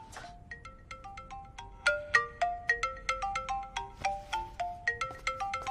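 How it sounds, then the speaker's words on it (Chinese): A phone ringtone plays a bright, repeating melodic tune of quick chiming notes, fairly close and clear, with no talk over it. "我先去接个电话。"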